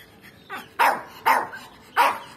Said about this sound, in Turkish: Puggle cinsi köpeği görürsünüz